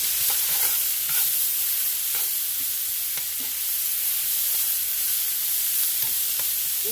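Shrimp sizzle steadily in a pan for a rice bowl, a constant bright hiss with occasional soft clicks of stirring, close and alone with no talk.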